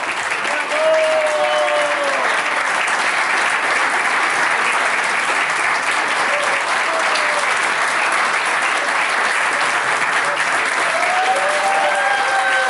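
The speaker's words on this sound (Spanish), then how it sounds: "con un aplauso gigante a la Inés Vera" A warm, sustained round of applause for a founding woman settler of Villa Francia at a community tribute, steady and full throughout, with voices murmuring underneath.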